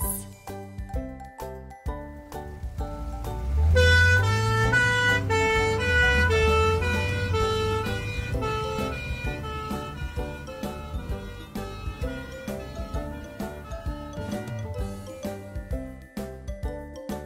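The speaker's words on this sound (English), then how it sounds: "Orange, ambulance." A toy ambulance plays a chiming electronic siren tune, bright tinkling notes mixed with a wailing tone and a rhythmic beat, fairly loud and close, continuing for the full stretch without talking.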